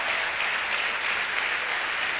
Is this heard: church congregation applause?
yes